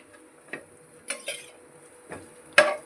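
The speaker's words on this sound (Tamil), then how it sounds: "நல்லா அந்த மாதிரி வதங்குற மாதிரி போட்டுக்கோங்க." Vegetables sauté in a little oil over a low simmer, heard as a few separate spatula scrapes and taps against the pan at an uneven pace over a quiet background.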